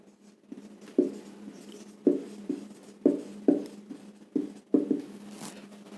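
Marker or pen writing out a mathematical definition on a board or page, a rhythmic series of short scratchy strokes in bursts, close and fairly quiet, with no talking.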